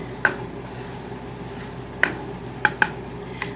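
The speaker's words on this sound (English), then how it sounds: "we're also going to cook our meat in a different pan" Ground beef sizzles and fries steadily in a pan, with a few sharp utensil clicks and scrapes as it is stirred, close and fairly quiet with no talking.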